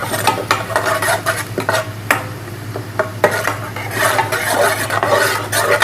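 Meat for achar gosht stir-fried in a pan with ginger garlic paste, loud close sizzling broken by sharp scraping and clanking strokes of a utensil against metal.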